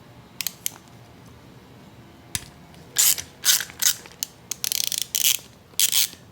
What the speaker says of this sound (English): we'll remove this 14mm bolt from the bottom